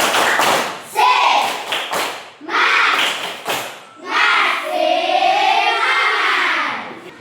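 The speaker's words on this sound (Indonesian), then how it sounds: "Baik, tepuk semangat dulu untuk kita semua. Tepuk semangat." A classroom group claps together in a rhythmic cheer, sharp hand slaps in quick bursts with short pauses between, close and loud, mixed with children's voices.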